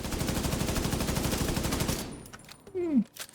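A G36 assault rifle in a video game fires a rapid, continuous full-auto burst for about two seconds, then cuts off into quiet with a brief mechanical clink and a short tonal sweep.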